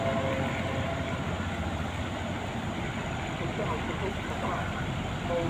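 A large sand barge's engine rumbles steadily as the vessel passes beneath a bridge, a dense low churning drone under continuous background traffic noise, with a voice talking over it.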